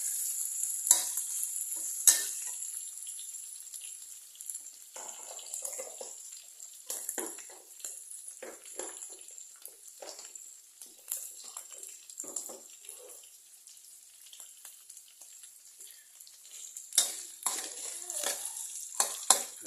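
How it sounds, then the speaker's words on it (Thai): Minced pork stir-fried with curry paste in a hot pan, a soft sizzle broken by repeated scraping and stirring strokes, moderately close with irregular rhythm. "เราก็คั่วหมูให้เข้ากับพริกแกงนะครับผม"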